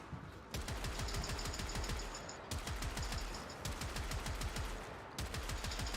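Automatic machine gun fire from a video game comes in three long, loud bursts of rapid shots separated by brief gaps, dense and steady, with no talking over it.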